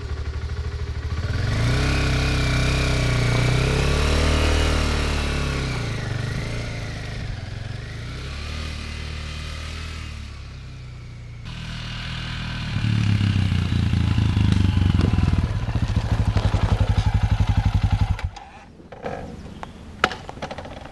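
A motorcycle pulls away uphill while towing a second motorcycle, its engine running steadily and then revving harder as it gets under way, loud and close throughout.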